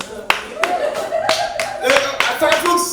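A few scattered, sparse hand claps at an evening publishing event at a zine fair, with speech running over and between them throughout.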